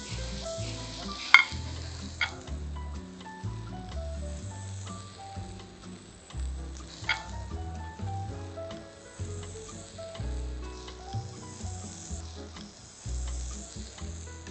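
A tenderloin steak sears in a hot pan with a steady, crackling sizzle, punctuated by occasional sharper pops and shifting spatter, close and continuous with no talk.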